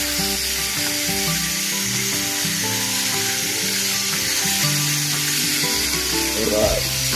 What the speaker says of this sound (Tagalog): Ato nang pan fry no ang natong liver.